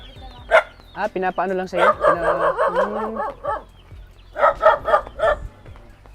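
A dog barks in a yard with chickens and pigs, sharp yelping barks in short bursts near the start and a quick run of several later, mixed with people talking nearby.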